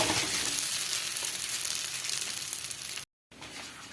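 Kerala oratti, a rice flatbread, fries in oil with a steady, close, dense sizzle that holds evenly before a brief silent gap, then resumes.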